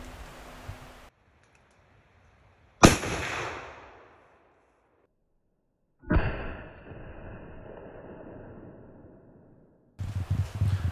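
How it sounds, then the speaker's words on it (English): A Barrett M82A1 .50 BMG rifle fires at a watermelon: two loud, booming shots several seconds apart, each trailing into a long echoing decay outdoors. "so let's shoot a watermelon"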